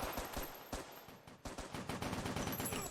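Automatic gun fire in a VR first-person shooter, fast bursts of close, punchy shots repeating across the moment with brief pauses between volleys.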